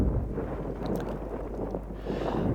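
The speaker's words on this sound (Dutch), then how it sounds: "De wind die bleef. Het was erg hard." Strong wind buffets the microphone outdoors on a Land's End to John O'Groats cycling tour through hilly British countryside, a steady low roar with gusty swells and no voices.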